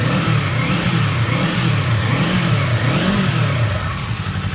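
A Kawasaki Eliminator motorcycle engine revs up and down repeatedly in a sound check, a close, loud rumbling exhaust note rising and falling in smooth waves.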